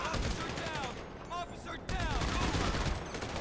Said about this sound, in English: Oh god, the police have got miniguns.